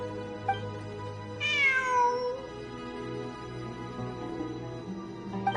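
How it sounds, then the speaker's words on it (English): A cat lets out a single drawn-out meow that rises and then falls, heard fairly clearly over a steady background of layered tones and soft music, followed by a brief chirp near the end. "It really is a cat."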